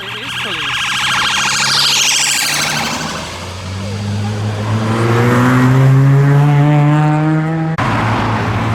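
A police car siren wails at a car meet of arriving tuner cars, its rising and falling tone loud and close over engine rumble, holding steady for several seconds before cutting off abruptly near the end.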